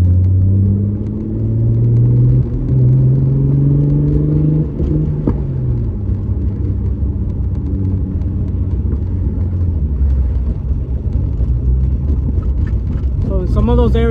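An engine that has just had its cam and crank sensor fixed drones steadily while being driven for fuel tuning, a loud, close rumble with engine tones that rise and fall as it revs, running without a break.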